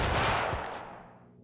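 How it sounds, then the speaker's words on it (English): A single sniper rifle gunshot fired in the video game Max Payne 2: one sharp, loud blast with a dense burst that decays into a fading tail over about a second and a half. "Snipe! Oh, yeah. Sniper rifle."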